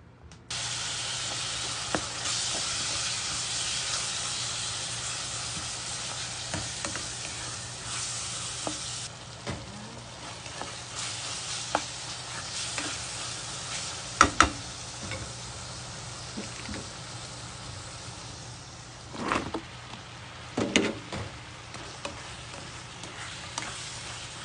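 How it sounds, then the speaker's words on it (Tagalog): Steady frying sizzle fills the whole stretch, with occasional clinks and scrapes of a utensil in the pan; no voices. "Pa-fry tayo ng fish."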